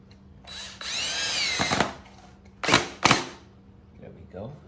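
Power drill driving screws into a homemade wooden fruit stand, with a whining motor burst followed by two short sharp drilling bursts close by, and a person talking alongside.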